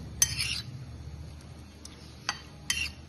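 A spoon scrapes and clinks against a bowl while sugar is mixed into a prawn marinade with vinegar and ginger-garlic paste, a few short faint clinks over quiet kitchen background.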